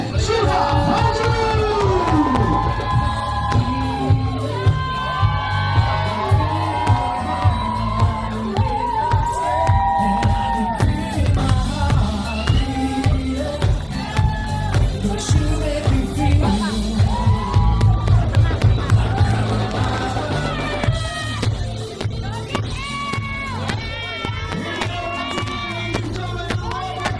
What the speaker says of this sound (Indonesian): Boleh saya minta tepuk tangan sekali lagi